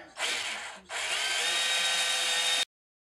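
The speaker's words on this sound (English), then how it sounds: "I got a drill behind, so I got my angle drill," An angle drill boring an 1/8 inch pilot hole into a bracket, a loud whining motor that starts, dips briefly, then runs steadily for about two seconds before cutting off.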